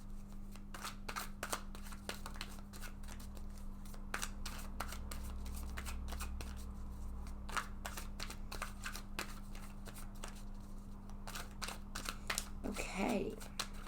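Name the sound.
shuffling a deck of cards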